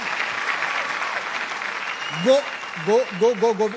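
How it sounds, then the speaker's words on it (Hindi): A comedy show audience gives loud applause for Govinda: clapping carries through, and a voice starts speaking over it near the end. "तालियां एक बार जोरदार।"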